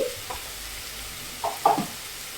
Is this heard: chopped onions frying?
yes